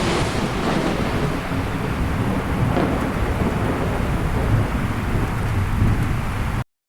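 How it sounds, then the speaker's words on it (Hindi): Heavy rain pours with thunder rumbling through it, a steady, loud, enveloping roar that swells slightly at moments and runs for several seconds before cutting off abruptly. "बहुत तेज बारिश होती है।"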